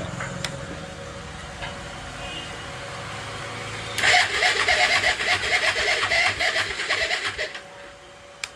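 A Bajaj Pulsar NS160 motorcycle with a weak, undercharged battery is cranked with the electric starter, giving a few seconds of rough, rhythmic mechanical churning after a quiet stretch, then stopping with a final click.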